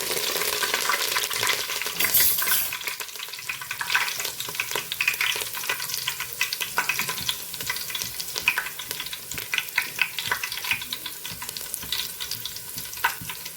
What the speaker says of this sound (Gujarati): પહેલાં લીલા મરચાંને ફ્રાય કરી લઈશું મીઠા લીમડાના પાનને પણ આપણે ફ્રાય કરી લેવાના છે